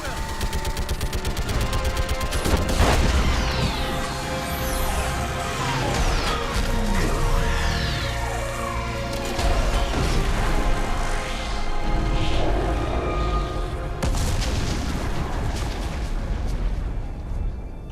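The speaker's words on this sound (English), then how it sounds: "I need an orbital strike." Orbital strike in the Mass Effect 3 battle for Rannoch: dense, continuous bursts of gunfire and heavy explosions with crashing impacts and sweeping whooshes, loud and close throughout with no let-up.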